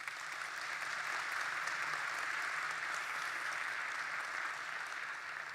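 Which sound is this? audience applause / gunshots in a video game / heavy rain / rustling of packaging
audience applause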